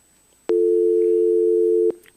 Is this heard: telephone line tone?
yes